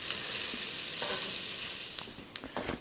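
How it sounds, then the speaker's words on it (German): Garlic sizzles briefly in hot oil in a cast-iron Dutch oven over a barbecue, a steady loud frying hiss with a few scraping stirs toward the end. "jetzt ganz zum Schluss kommt der Knoblauch mit dazu. Wie gesagt, nur ganz kurz mit anbraten."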